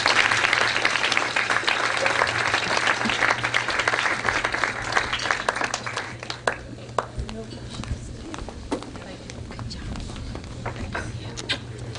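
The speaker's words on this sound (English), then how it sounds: "How about a nice round of applause" Wedding guests clapping in a round of applause, dense at first and then thinning into scattered individual claps, with low hum underneath and voices murmuring throughout.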